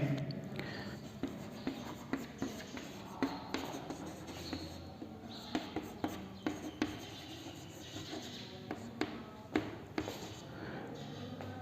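A sentence being written on a board in an English grammar lesson: a steady series of light, crisp taps and scrapes, close and quiet, with no talk over them.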